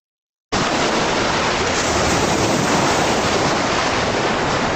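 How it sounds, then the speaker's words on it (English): Ocean waves crash onto the coast in a loud, continuous roar of surf that begins abruptly after a short silence and holds steady throughout. "These waves crash onto the coast."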